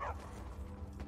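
A dog in the video game The Elder Scrolls V: Skyrim gives a short, faint yip or bark at the very start, followed by a low ambient murmur.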